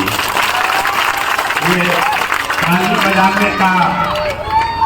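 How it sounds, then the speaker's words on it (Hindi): A large crowd at a political speech rally applauds steadily and loudly throughout, with dense clapping and a voice speaking over it. "अपने बदहाली की बात सुनकर ताली बजा रहे।"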